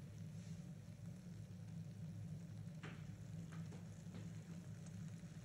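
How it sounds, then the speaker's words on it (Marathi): Mushrooms sauté in a pan for mushroom Manchurian, a soft steady sizzle with occasional faint stirring scrapes, quiet and close. "ते चांगलं कोट होईपर्यंत परतून घ्यायचं."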